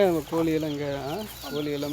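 Farmyard chickens cluck and call loudly and close by, a string of rising and falling fowl vocalizations with brief pauses, filling the short stretch alone.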